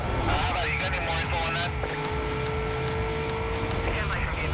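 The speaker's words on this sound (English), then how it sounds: "Why does this Corvette sound like a Lamborghini?" Racing engine of a Corvette C6R in Need for Speed: Most Wanted (2005), its tone resembling a Lamborghini V12, holds a steady loud drone with shifting pitch throughout, mixed with other game sounds.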